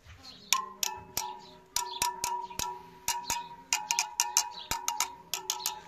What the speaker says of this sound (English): Just a screwdriver. Anything metallic, really. And just give each spoke a tap.